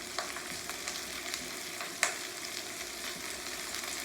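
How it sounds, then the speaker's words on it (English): Cabbage steam-cooking in a pot for cabbage soup gives a steady, soft sizzling hiss with faint crackles and one sharp click partway through, with no talking. "we are going to just let the steam cook this cabbage"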